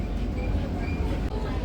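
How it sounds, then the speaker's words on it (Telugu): Inside a coach of the Vande Bharat Express from Secunderabad to Tirupati as it pulls away, a continuous low rumble and hum fill the carriage at a steady level. "ట్రైన్ అయితే బయలుదేరింది."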